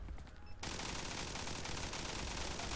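Sustained automatic gunfire in the mobile shooter game Zula, a dense continuous rattle of rapid shots that starts abruptly and stays loud to the end.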